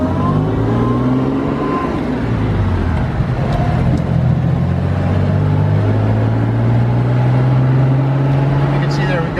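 A 1955 Jaguar XK 140SE fixed-head coupe drives along, its engine droning and shifting pitch through gear changes with steady road noise, heard from inside the car under occasional talk.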